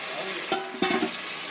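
Chicken curry ingredients are stirred and fried in oil, a close steady sizzle broken by a couple of brisk scraping strokes of the spoon.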